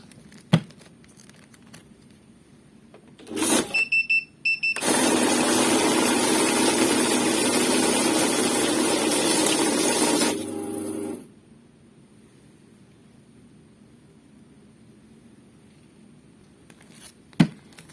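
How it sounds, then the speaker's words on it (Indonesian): Kozure MC-101 banknote counting machine riffling through a stack of bills: a short start-up burst, then about six seconds of loud, dense, steady fluttering whir that stops abruptly, followed by quiet with a few faint clicks. "Jadi cukup cepat ya dalam menghitung uang"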